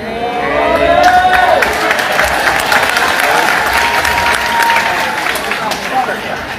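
A sermon audience breaks into loud applause mixed with cheering and crowd noise, a dense sustained wash of clapping that swells early and stays strong throughout.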